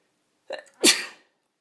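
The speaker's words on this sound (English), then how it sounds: "Oh, sorry, I just sneezed there." A single person sneezes during a calm indoor oracle card reading: a short catching breath, then one loud, sharp burst that trails off quickly into silence.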